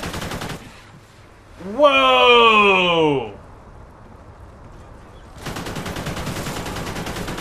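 Automatic gunfire in the video game Call of Duty Ghosts rattles in a dense close burst, stops for a shouted exclamation and a quiet stretch, then resumes as a sustained loud volley.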